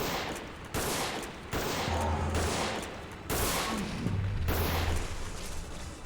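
Heavy gunfire in a video game rolls in dense, continuous volleys that cut off abruptly, loud and unbroken between the sharp stops.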